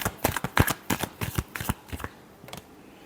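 Tarot cards are shuffled by hand in a final shuffle, a close series of quick riffling bursts and soft slaps in an uneven rhythm, ending with a short pair of flutters.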